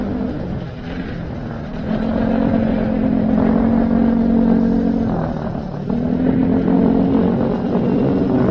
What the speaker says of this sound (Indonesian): Wis rame ya, pada pakai knalpot racing